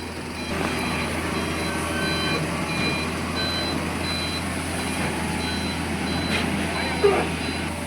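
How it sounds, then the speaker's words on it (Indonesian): A heavy dump truck idles with a steady engine rumble while faint reversing beeps repeat at regular intervals, with voices murmuring in the background, during mud dredging at a river. "loading dump truk berikutnya pun langsung bersiap tentunya."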